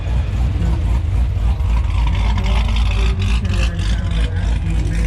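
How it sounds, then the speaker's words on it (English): A car engine rumbles loudly and close at a Cars and Coffee meet in Las Vegas, a deep steady drone with slight swells in revving across the whole stretch. "Oh, you gotta hear this car there."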